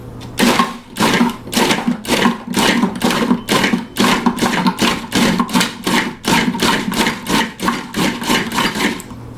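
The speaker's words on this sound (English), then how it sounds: "I'm going to start by pulsing it a few times just to get the blade going." A blender pulses frozen strawberries for a vegan dairy-free nice cream in a loud, close run of short bursts, about two each second. Each grinding whir stops abruptly before the next begins.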